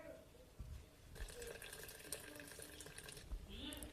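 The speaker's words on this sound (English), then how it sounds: "Now you can add water until it's covered up to here." Water pours into a pot of meatballs in a steady, close stream, moderately quiet, with a person speaking faintly over it.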